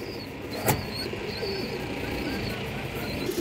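Pigeons of a dark-tailed pair, male and female, cooing softly in a loft amid steady background noise, with faint calls recurring across the stretch.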